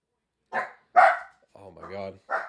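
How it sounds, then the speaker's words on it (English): Dogs barking at a house, several sharp barks spaced out with a short growly stretch between them, close and moderately loud, alone with no talk. "Got dogs barking at my house right now"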